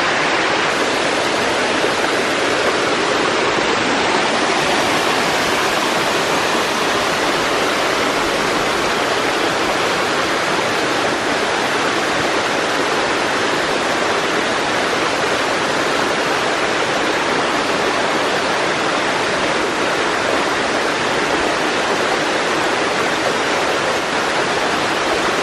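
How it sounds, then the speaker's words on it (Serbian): Donji Piljski waterfall on Stara Planina roars as a steady, loud, unbroken rush of falling water, filling the whole stretch with no voices. "I stigli smo i na Donji Piljski vodopad"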